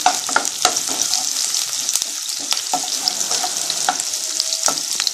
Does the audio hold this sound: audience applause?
no